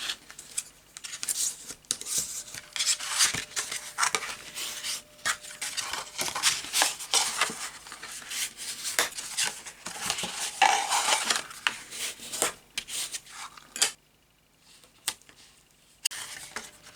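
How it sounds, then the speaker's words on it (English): A bone folder scrapes and rubs along paper while sharp crease lines are pressed for a pop-up box. The rapid, close scraping strokes run continuously, then thin out to a few isolated rubs near the end. "Use your bone folder to make some nice sharp crease lines here on each one"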